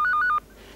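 A telephone dials with a rapid run of about four short touch-tone beeps in quick succession, clear and close, followed by faint hiss.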